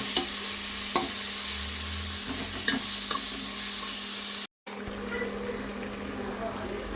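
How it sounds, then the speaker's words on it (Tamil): Ginger-garlic masala is stirred in a cooking pot until its raw smell goes, giving a close, continuous sizzle with repeated spoon scrapes and knocks, a brief gap in the middle, and a voice talking over part of it. "நல்லா பச்சை வடை போற வரைக்கும் நம்ம கிண்டலாம்"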